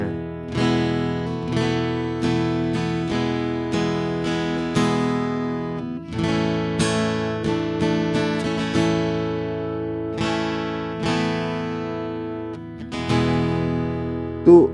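Plucked Legacy MJG 616 CEQ acoustic-electric guitar with treble and middle cut to leave a dark, bass-heavy tone, notes ringing and overlapping in a steady picked pattern with no voices.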